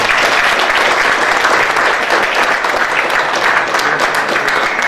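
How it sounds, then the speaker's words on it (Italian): Audience applause at a Sicilian-language poetry book presentation, dense steady clapping from a roomful of people, loud and sustained for several seconds without letup. "un applauso."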